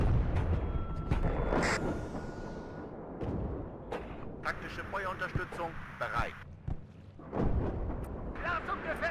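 Mortar artillery fire in the WARNO strategy game lands as repeated heavy booms and crumping blasts mixed with smaller pops and battle noise, with someone talking over much of it.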